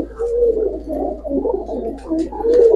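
Giribaz Pakistani high flyer chocolate-face pigeons cooing close by, a series of soft, throaty rolling coos repeating every half second or so with brief pauses, over a quiet background.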